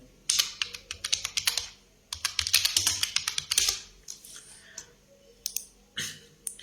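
Rapid bursts of keystrokes on a computer keyboard, typed close up in uneven clusters with short pauses between runs, no voices.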